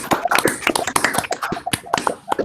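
Scattered, uneven hand claps from a small audience after a scientific talk on neutron diffraction, sharp and fairly close, thinning out toward the end.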